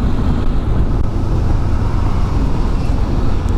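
Dense, heavy road traffic on a Mumbai–Pune route, heard from a moving Bajaj Dominar motorcycle, a constant loud roar of engines and wind with no pauses and no talking.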